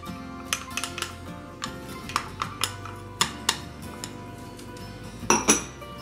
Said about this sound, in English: We're going to start off by putting the butter in the pan, the onion in the pan, celery, celery,